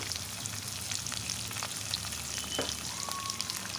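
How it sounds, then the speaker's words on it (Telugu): Onion, garlic and curry leaves fry in hot oil in a pan, a steady close sizzle and crackle with faint stirring scrapes, no talk. "వీటన్నిటినీ మంచిగా అయితే ఆయిల్లో ఫ్రై చేసుకోవాలి"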